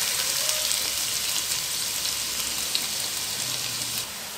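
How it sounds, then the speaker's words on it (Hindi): Carrots frying in ghee in a pan give a steady, dense sizzle that holds evenly throughout with faint crackles, close and fairly loud, with no talk. "अब इसको एक 10 मिनट हम भूनते हुए पकाएंगे"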